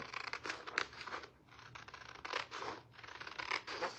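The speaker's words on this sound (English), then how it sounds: "So we're going to cut this." Paper folder being cut with scissors, giving a series of close scratchy snips and rustles in uneven bursts with short pauses between them, and no voice.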